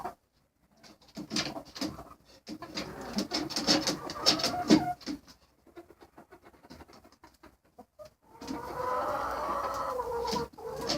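A rooster and hens cluck and call inside a deep-litter chicken coop, with close, irregular bursts of clucking and cooing, short pauses, and a busier stretch of calls near the end.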